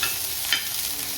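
Peas and potato rice being reheated in a pan, with a steady close sizzle and the scrape of stirring running through the whole short stretch.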